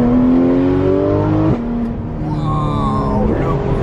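A Porsche 911 GT3 RS engine revs loud and close near a racing circuit, rising steadily in pitch, dropping sharply after a gear change, then climbing again in a sustained high-revving howl.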